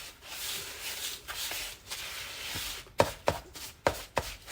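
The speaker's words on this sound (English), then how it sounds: "And I'm going to mix this all together." Sugar is worked into a damp crumb crust for a margarita cheesecake in a mixing bowl, giving soft, quiet scraping and rubbing, then a few sharper taps and scrapes of the utensil against the bowl.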